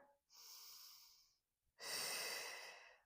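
Two slow, deep breaths taken during a Pilates hip stretch, a long airy exhale followed by a louder, fuller one, close and clear with silence in between.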